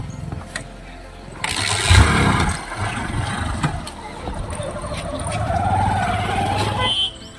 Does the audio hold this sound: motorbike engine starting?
yes